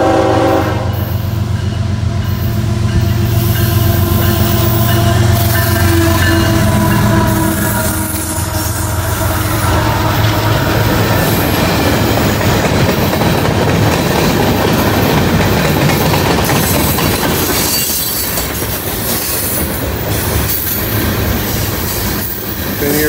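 A loud northbound train in Ringgold, Georgia, rumbles close by, horn blaring at the start, then the heavy roll and clatter of cars passing with occasional wheel squeal.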